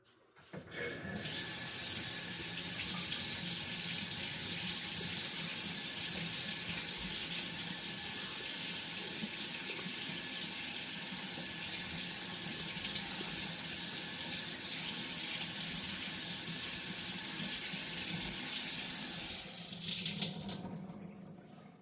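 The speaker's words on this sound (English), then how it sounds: "we have to make sure that we wash our vegetables in water" A kitchen tap runs steadily while vegetables are washed for a shakshuka breakfast, giving a constant close hiss of flowing water from start to finish with no talking.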